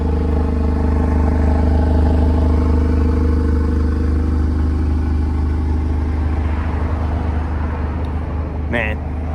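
Modified Audi S3 making about 400 wheel horsepower, idling with a steady, deep exhaust drone that stays loud and close throughout, with a brief clatter near the end.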